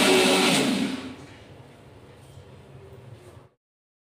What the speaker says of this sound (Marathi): मिक्सरला लावली बघा।